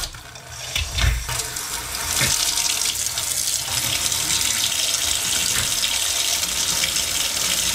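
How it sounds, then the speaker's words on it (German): Water runs steadily from a newly installed kitchen faucet into the sink, first cold and then hot, rising to a strong continuous splashing rush close by with no talking. "Wir öffnen mal das Kaltwasser. Funktioniert. Einmal das Warmwasser."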